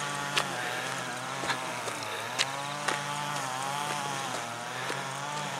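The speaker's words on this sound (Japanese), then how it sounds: "草刈り機の音がね、どこ行っても聞くんで" A grass cutter runs in Shirasagi Park in Sakai's Higashi Ward, a steady buzzing two-stroke engine drone at moderate distance with a few faint clicks over it.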